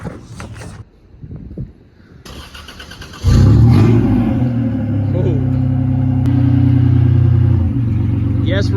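A car engine starts and idles loudly while the car reverses slowly on a road during a DIY wheel alignment, after a few quiet clunks; a steady close engine rumble continues, with voices in the background.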